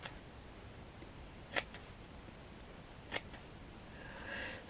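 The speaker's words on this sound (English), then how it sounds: "Now what I'm going to do is just to snip." Two quiet, crisp scissor snips cut thread on a frilly fabric brooch, about a second and a half apart, close but faint over a low room background.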